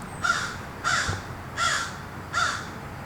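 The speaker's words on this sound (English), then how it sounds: "The crow concurs." A crow caws four times at a steady, even pace, each harsh call distinct and moderately close, over faint outdoor background noise.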